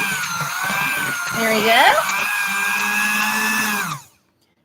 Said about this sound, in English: I'm just kind of basically using the mixer to whisk it together for a minute there